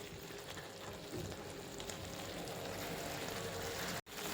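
Eggplant and potato curry sizzles uncovered in a pan over a gas flame, a steady, fairly quiet crackle and hiss with a brief dropout near the end.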